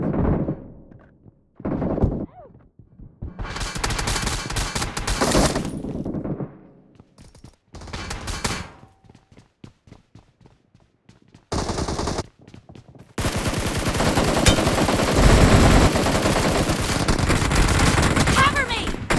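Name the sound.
gunfire in a video game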